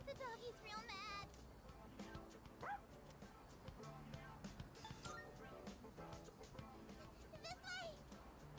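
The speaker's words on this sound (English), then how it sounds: "He accidentally stepped on a doggy's tail. Now he won't stop chasing him." A dog in Persona 3 Reload barks and yips angrily after having its tail stepped on, with repeated sharp barks scattered over game music and sound effects, fairly faint overall.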